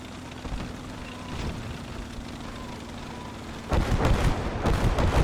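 Calliope rocket artillery salvo in Gates of Hell: Ostfront, a low rumbling battlefield bed that erupts late into a dense, loud burst of overlapping rocket launches and blasts.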